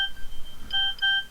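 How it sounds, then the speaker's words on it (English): A mobile phone ringing with a repeated electronic tone in short pulses, moderately loud and alone against a quiet room. "That's my phone."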